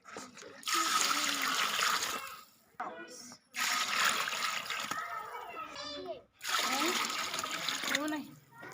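Water is poured from bowls into a large pot of sautéed base for a 5 kg batch of matar pulao, coming in loud rushing bursts separated by short pauses, with a voice talking in between.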